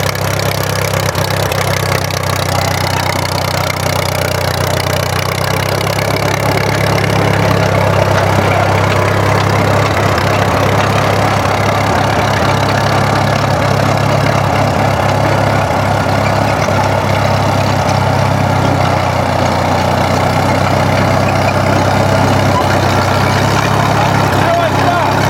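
A 1932 Caterpillar Model Ten dozer engine runs steadily at a low idle-like chug throughout, a continuous loud rumble close by with no pauses.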